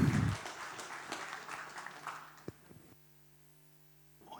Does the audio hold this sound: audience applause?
yes